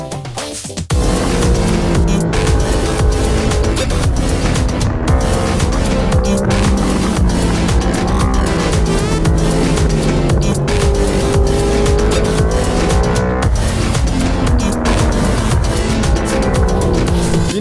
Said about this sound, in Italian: someone special is gonna be testing this bike today, hoping to be able to race with it next season